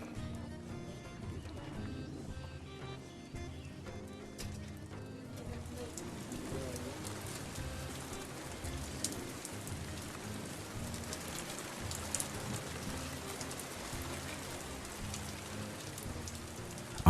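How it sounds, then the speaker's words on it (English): Rain falls steadily onto a forest lake in Artvin, Turkey, a soft continuous patter with scattered louder drops, faint and evenly spread throughout. "Under the rain, in the black lake, together with the rain"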